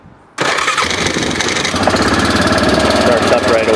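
A small gasoline engine, choked, catches abruptly after a brief quiet moment and runs loud and close with a steady rough idle to the end.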